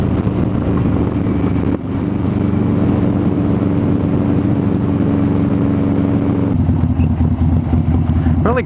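A 2003 Buell XB9S motorcycle engine runs loud and close with a steady throbbing rumble, changing character slightly partway through and again near the end.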